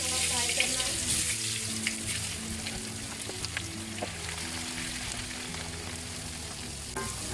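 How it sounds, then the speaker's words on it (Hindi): Potatoes fry in a hot pan for an aloo baingan curry, a continuous bright sizzle with occasional clinks and stirring scrapes, close, over a steady low kitchen hum with tonal background sound and no clear talking. "दूसरे पैन में मैंने ये जो आलू हैं ये डाल देने हैं, इनको थोड़ा फ्राई करना है।"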